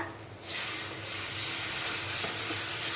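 Onion and garlic dropped into hot oil in a pan while cooking a hilsa fish curry with green banana, bursting into a loud steady sizzle after a quiet start and hissing on without pause, no voices.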